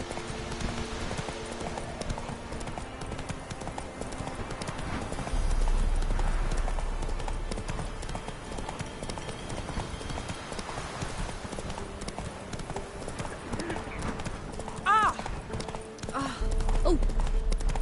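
Galloping hoofbeats from the horse in the video game The Witcher 3 drum steadily and close throughout, joined by game ambience and a short whinny near the end.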